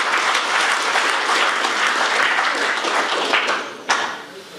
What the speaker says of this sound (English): give me a clap for that one